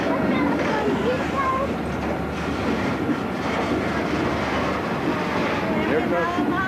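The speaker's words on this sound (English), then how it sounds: "Here goes a train." A train rolls past with a steady, loud rumble and rattle of rail cars close by, carried along under wind buffeting the microphone and faint voices at a tourist spot.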